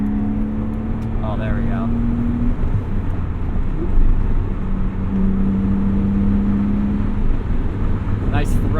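A 1999 BMW M Roadster running a Dinan tune and Dinan intake revs up with a steady, throaty engine drone that rises and falls. It is heard close, and a person speaks briefly over it.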